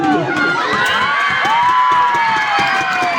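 A crowd at a basketball game cheers and shouts continuously, loud and dense, with high excited voices and whistling squeals throughout.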